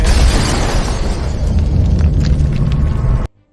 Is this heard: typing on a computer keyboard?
no